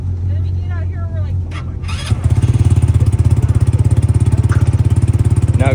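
Small Polaris RZR 200 utility vehicle engine cranks and catches, then settles into a rapid, chugging idle with a steady loud throb close by; a brief voice and short whistly sounds come before it starts.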